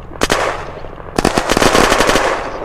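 Automatic gunfire in the video game Unturned during a PvP base raid: a short burst, a brief pause, then a longer rapid volley of loud, close shots.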